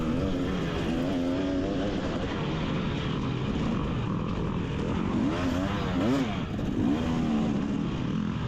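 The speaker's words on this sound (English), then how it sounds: "We got the first rev bomb of the day." A dirt bike engine revs sharply during a GNCC off-road race at Big Buck, a rough, droning roar that climbs and wavers in a few rapid rev sweeps, close and loud, with other engines humming underneath.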